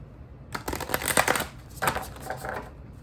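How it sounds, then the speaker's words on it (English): Two quick bursts of a deck of oracle cards being riffled and shuffled, crisp flapping clicks close by, with a brief pause between them. "I'll shuffle them once"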